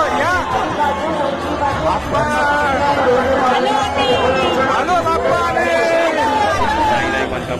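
Dense crowd chatter at Dagdusheth Halwai Ganpati temple in Pune, a steady loud babble of many overlapping voices close around.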